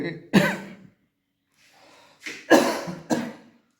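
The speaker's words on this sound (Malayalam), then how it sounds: "എനിക്ക് ചുമ വരുന്നുണ്ട്" Several sharp coughs in two bursts, one early and a cluster of two or three later, separated by a quiet pause with soft breathing.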